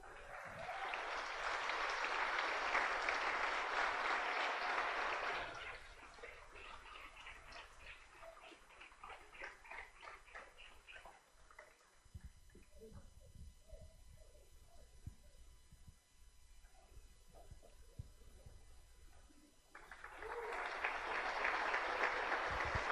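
Audience applause at a church convention swells loudly at the start, drops away while people speak and voices murmur, then surges again into strong clapping at the end.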